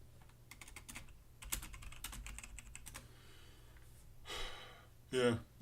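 Keystrokes on a computer keyboard in a messy home office, a close, quiet flurry of clicks in short bursts, followed by breathy sighs and a sharp exhale.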